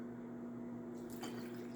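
Water poured into a small measuring prep bowl, a brief splashing trickle that starts partway through and runs close by over a steady electrical hum, with no talking.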